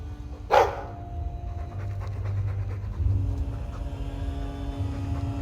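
A Mabari war dog in Dragon Age 2 pants softly and steadily, close by, after a brief sharp sound at the start, over low ambient hum.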